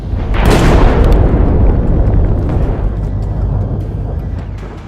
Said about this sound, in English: triggering a powerful explosion.